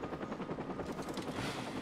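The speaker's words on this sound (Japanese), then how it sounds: "あ、おるで、ヘリ飛んでる。" A helicopter flying in the video game Watch Dogs gives a faint, steady rotor thrum with rapid chopping pulses, continuous throughout with no talk.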